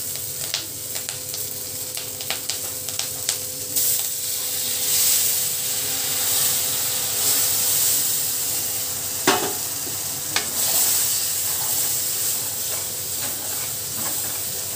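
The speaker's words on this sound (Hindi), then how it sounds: "ये तेल मेरा बहुत ज़्यादा गर्म हो गया, जल्दी जल्दी इसमें डाल लेती हूँ" Loud, steady sizzling of food frying in hot oil, a continuous hiss with occasional sharper crackles and pops, no voices.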